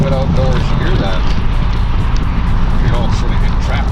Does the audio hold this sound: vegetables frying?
no